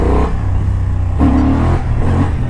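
A new Honda Hornet A2 motorcycle engine revs hard while the bike lifts into a wheelie, a loud, close, continuous roar with rising pitch swells around the middle, alone with no talking.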